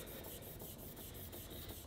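Steady rasping of sandpaper rubbed back and forth over an axe head during restoration, a continuous rhythmic scratching in quick, even strokes, close and fairly quiet with no talking.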